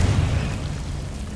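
A Confringo fire-blast spell bursts in Hogwarts Legacy, a short, loud, deep rumbling explosion that swells at once and fades into a dull roar.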